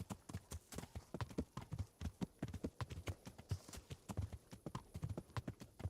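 Rapid, steady horse hoofbeats from a galloping mount in Kingdom Come Deliverance, a continuous close clip-clop rhythm with no talking.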